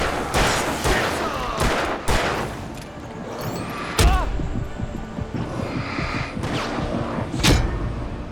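Bursts of gunfire from the Alan Wake video game, several sharp loud shots at irregular intervals mixed with game effects and a voice talking.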